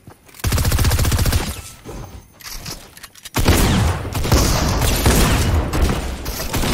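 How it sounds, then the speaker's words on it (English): Bursts of automatic gunfire in Fortnite aimed at a player's built structure, loud rapid volleys with a short lull midway before a heavier, denser stretch of shooting and impacts, no voices over it. "I'll just shoot his building, you go push."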